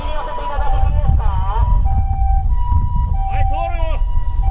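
An ambulance siren passes by a street-corner train station plaza with a loud wailing, warbling tone over street noise, while someone talks.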